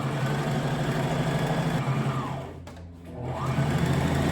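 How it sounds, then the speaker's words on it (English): A sewing machine top-stitches a pillowcase being made into a Halloween costume, running in a loud, close, steady mechanical whir that slows and dips briefly near the end before picking back up, with no voices. "We just top stitched the whole thing that we've already done."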